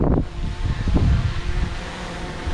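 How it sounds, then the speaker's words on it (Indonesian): Strong outdoor wind gusts buffet the microphone with loud, rumbling low noise that surges and fades unevenly, with no voices. "Angin suasananya kencang banget."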